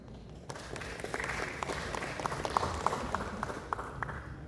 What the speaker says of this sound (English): Can you please have a better round of applause for both Aparna as well as